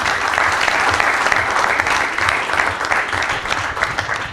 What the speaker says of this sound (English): Sir, may we please give him a big round of applause?